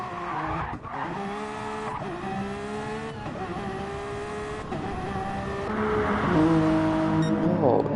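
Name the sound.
race car spinning out, tire squeal, in racing game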